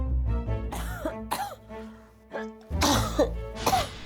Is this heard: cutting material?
no